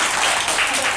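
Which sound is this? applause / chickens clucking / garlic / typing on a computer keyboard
applause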